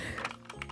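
A few soft, close keystrokes on a backlit keyboard with new keycaps, very brief and quiet in an ASMR style.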